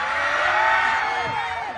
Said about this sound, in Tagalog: sumigaw po kayo kapag mainit.